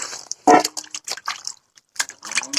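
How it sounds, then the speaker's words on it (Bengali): Tomatoes rinsed by hand in water, close up, with splashing and dripping, wet squishy handling and small trickles in short irregular bursts. "টমেটোটা আমি ধুয়ে নিই"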